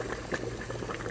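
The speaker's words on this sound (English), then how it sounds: "depending on how long you want to keep the hard boil on it" Rice and black beans at a hard boil in a pot, a steady close bubbling and gurgling that continues without a break.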